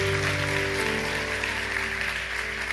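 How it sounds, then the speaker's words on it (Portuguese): A church congregation at an evening service claps in continuous, loud applause, blended with a steady sustained musical drone underneath. "Dê o melhor aplauso que você pode dar ao Senhor."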